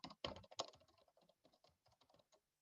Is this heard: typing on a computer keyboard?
yes